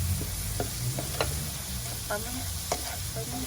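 Ground meat cooking with pepper and crumbled Knorr cubes is stirred in a hot pan, a constant sizzle broken by several clinks and scrapes of the spatula at an uneven pace.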